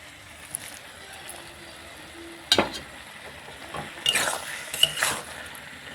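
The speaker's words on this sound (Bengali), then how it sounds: "এখন আমি ভাজা চিংড়ি মাছগুলোকে তরকারির মধ্যে দিয়ে দেব।" Fried shrimp tumble into a pumpkin curry in a pan and are stirred in, with a gentle sizzle underneath and several sharp metal spatula clanks and scrapes against the pan, close by.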